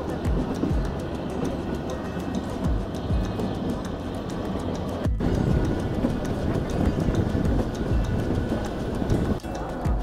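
Kalka–Shimla toy train, the Shivalik Express, running along the mountain line, a steady loud rumble with rhythmic wheel clatter heard from on board, continuous throughout with a brief dip midway.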